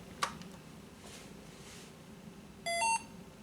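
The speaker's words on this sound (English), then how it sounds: "we hear the classic beep sound we hear on 98" An NEC PC-9821Nr15 PC-98 laptop gives its startup beep: a short electronic beep sounds once, clear and bright over a quiet background hum, after a faint click.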